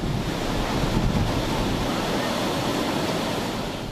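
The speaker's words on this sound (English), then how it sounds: "several people braved the crashing waves even as red flags were hoisted on the beach" Heavy surf crashes at Big Wave Bay beach in Hong Kong, with red flags flying. The roar is constant and broadband, mixed with strong wind buffeting the microphone, and no voices are heard.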